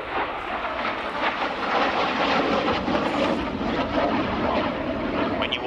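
A Hawker Hunter T7A jet roars past at the Yeovilton Air Day display, a broad, loud, continuous whoosh of engine noise that swells and holds across the whole stretch.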